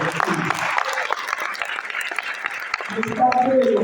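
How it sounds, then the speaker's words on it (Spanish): Audience clapping at a Spanish-language talk on agriculture, a fairly steady patter of many hands that carries through, with voices and cheering mixed in and a brief tone near the end. "Y eso merece un aplauso muy grande"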